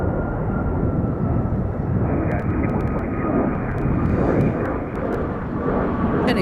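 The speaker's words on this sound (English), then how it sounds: "just let you enjoy the sights and sounds of the airport here." Jet aircraft at Chicago O'Hare International Airport roar loudly and steadily throughout, a broad continuous engine rumble with a thin whine on top and faint clicks over it.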